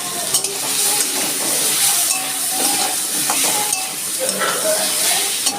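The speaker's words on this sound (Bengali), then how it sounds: "আলুটা একটু ভেজে তুলে নেব" Potatoes frying in hot oil with turmeric in a kadai, a loud, continuous bright sizzle with bubbling and occasional stirring scrapes, close up.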